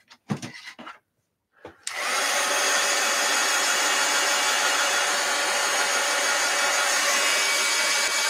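A hair dryer blows on wet paint on the front of a painted giveaway envelope, starting after a couple of short bursts and then running as a loud, steady, close whoosh without pause.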